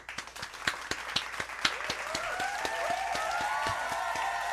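Studio audience on a podcast set applauding a guest, starting with several distinct loud claps that build into steady, dense clapping, with some vocal cheering rising over the top.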